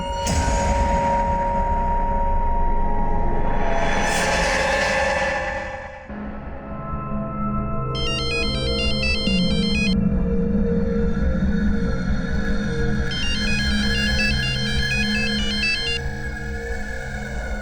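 An electronic phone ringtone chimes in two bursts of rapid, high melodic beeps over a low rumbling background.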